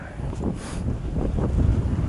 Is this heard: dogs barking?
no